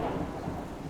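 Rain patters with a low rumble of thunder during a rainstorm in the survival game Subsistence, a short, faint stretch of steady rain and thunder.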